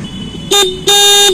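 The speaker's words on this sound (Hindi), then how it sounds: "एक बार आपको हॉर्न बजा के दिखाते हैं" Two short, loud honks of a Hero BS6 motorcycle horn, the second held longer, close by with little else around.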